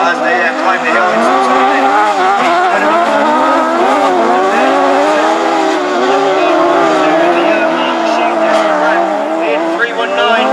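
Ladies' race cars climb a hill at a raceway, engines whining and revving loudly and continuously with shifting pitch, while a commentator talks over them.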